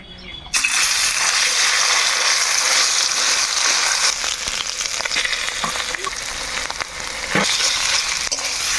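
Ash gourd paste fries in ghee in a kadai for a sweet, a loud, continuous close sizzle with occasional stirring scrapes, with a voice speaking underneath.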